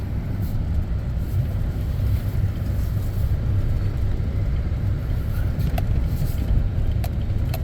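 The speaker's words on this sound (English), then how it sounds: "So now I can take the skid steer and clean all this mess up" Skid steer loader engine idling outdoors, a steady low rumbling drone that stays even throughout, with a few faint clicks over it and no talk.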